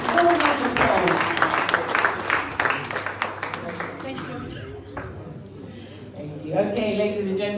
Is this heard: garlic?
no